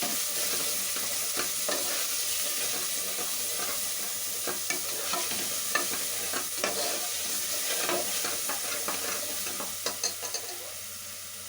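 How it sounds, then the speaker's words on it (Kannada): A green gram gravy base with turmeric fries in a pan, a steady soft sizzle under frequent stirring scrapes and small clicks of a utensil against the pan, close and moderate in level. "ಸ್ವಲ್ಪ ಅರಿಶಿನ ಹಾಕಿ ಅದು ಫ್ರೈ ಮಾಡ್ತೀವಿ ಚೆನ್ನಾಗಿ"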